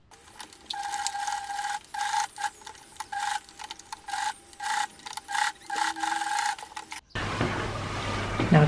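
A sewing machine stitches along the seam of a pants pocket, running in repeated bursts of steady whirring with brief pauses between them, close and clear, before the motor stops and a different, rougher handling noise follows.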